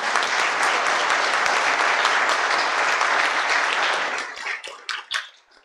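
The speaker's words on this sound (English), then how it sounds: "I think that deserves a round of applause." A wedding congregation inside a church bursts into loud, dense applause during a wedding Mass, sustained for several seconds before thinning into scattered final claps.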